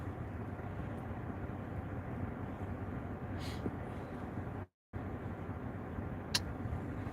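Car interior road rumble from driving around, a steady low drone at faint level, with a brief dropout partway through and no talk.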